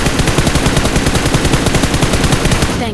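Sustained automatic gunfire in a battle-royale style shooter game, a loud, fast, steady stream of shots running without pause from start to finish.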